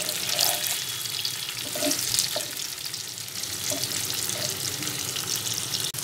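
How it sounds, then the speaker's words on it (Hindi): Anarsa made from rice flour frying in hot ghee, a steady broadband sizzle and crackle running unbroken throughout, close and fairly loud with faint stirring bumps and no talk. "अब हम इसमें अनरसा डाल के रोस्ट कर लेंगे।"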